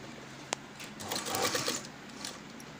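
A sewing machine stitching lace onto the side of a pot-neck blouse, a faint steady whirring with a single sharp click early on and a slight swell in the middle.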